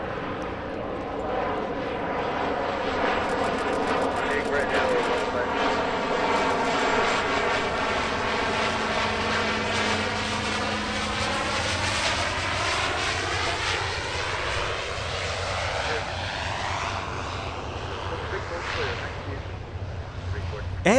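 A Pilatus PC-6 flies past at an Oshkosh airshow, its engine and propeller giving a loud sustained drone that rises and falls in pitch as it passes.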